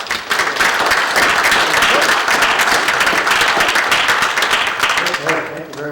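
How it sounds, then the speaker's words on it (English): An audience at a speaker-series lecture gives a dense, steady round of clapping that holds for several seconds before thinning out at the end. "So let's have a nice round of applause for Dr. Spurgeon."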